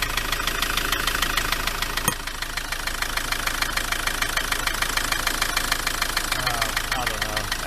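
Ford Transit MK7 2.4 RWD diesel engine idling with a rapid, regular knocking clatter, steady and close, with a brief dip partway through and faint voices in the background near the end.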